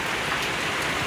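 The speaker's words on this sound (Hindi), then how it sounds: "बारिश आ गई" Rain falls steadily in a dark, windy storm, a dense close hiss of drops on surfaces with no voices.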